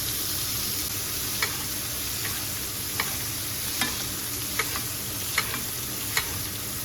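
Butter sizzles steadily in a pan on low heat for NY strip steak with onions, a constant hiss broken by faint ticks of a utensil at regular intervals. No one speaks.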